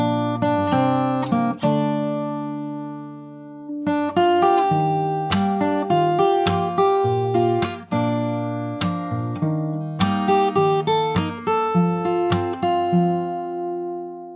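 Fingerstyle acoustic guitar plays the chorus of a song, with clear plucked melody notes over bass notes and a short pause before the phrase resumes, alone without voices.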